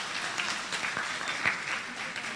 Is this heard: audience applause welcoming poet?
yes